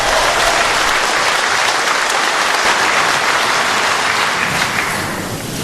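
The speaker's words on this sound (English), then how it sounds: "Let's hear her applause." An audience applauds Margaret Thatcher at a Conservative event, dense continuous clapping that fills the hall, loud and steady before easing slightly at the end.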